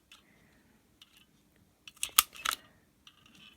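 A few quick mechanical clicks and a short burst of rapid whirring stitches from a small handheld sewing machine, close and quiet.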